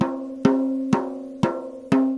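Five steady taps on a drum head with some tension on each lug, each giving a clear pitched ring with a bright attack and a sustained tone that fades between hits, close and alone.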